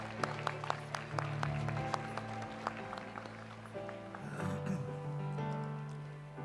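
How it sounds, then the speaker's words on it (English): Applause at a university alumni awards ceremony, with many hands clapping in a steady patter and a few sharp claps standing out, fairly quiet and trailing off near the end. "A round of applause,"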